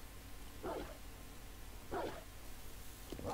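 A zombie dog horde in 7 Days to Die barks in three separate single barks spaced about a second apart, fairly distant and moderately loud over a constant low hum.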